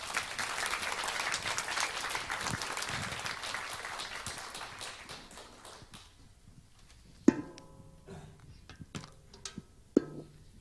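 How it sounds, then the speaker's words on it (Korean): Congregation applause of encouragement in a church service, a steady dense clapping that fades after several seconds into quieter room noise with a few isolated knocks and thumps. "오실 때 우리가 주님 안에서 격려의 박수 부탁드리겠습니다."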